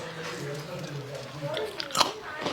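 Crispy air-fried French fries from a multi snacks maker air fryer are bitten with a sharp crunch, the loudest bite near the end, with chewing and talk around it.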